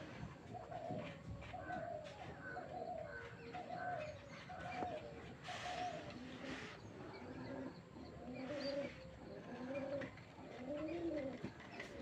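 Pigeons and their chicks coo from close by in a steady run of soft, rounded calls lasting about twelve seconds, with faint chirps and some rustling mixed in.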